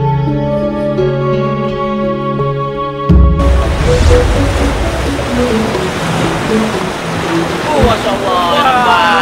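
Loud ocean surf at Pandawa Beach in Bali, a broad steady wash of breaking waves that begins abruptly after a few seconds of tonal music and continues, with faint voices mixed under it.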